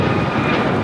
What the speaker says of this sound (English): That was United Airlines 1621 taking off to Orlando on a MAX 9